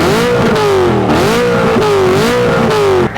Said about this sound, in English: Another positive, it's the exhaust notes that come from this E92.